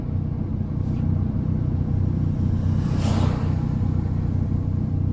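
Turbocharged Mazda 3 with a faulty MAF sensor cruises gently on a test drive, a steady low engine and road rumble inside the cabin with one brief louder swell midway, no talking.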